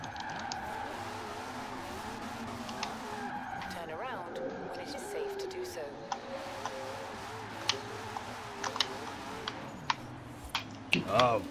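Cars drifting in Forza Horizon 4 with tires skidding and squealing in long wavering whines over a steady engine drone, plus sharp ticks and clunks that grow busier toward the end.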